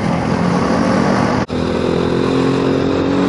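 A tractor engine runs on a Sunday road near Culmine San Pietro, a steady, loud motor drone that holds throughout with one brief dropout near the middle, heard from a nearby car.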